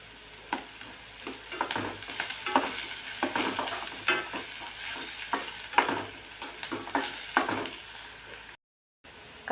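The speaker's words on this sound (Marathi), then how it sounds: "म्हणजे कांदा आणि मिरची व्यवस्थित भाजून घ्यायची आहे" Chopped onion and green chillies fry in a pan, a continuous close sizzle broken by frequent rhythmic scraping stirs of a spatula, loud and steady, with a brief dropout near the end and no talk.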